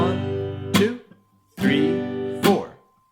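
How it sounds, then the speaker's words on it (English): Guitar strummed in steady quarter notes with percussive palm hits landing on the backbeat; chords ring between sharp slaps, played alone in a lesson setting. "with those percussive hits coming in on the beats 2 and 4"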